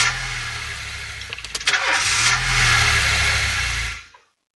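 A car engine cranks and catches in the video game This Is the Police, a few rough turnover bursts giving way to a steady idle hum that cuts off abruptly.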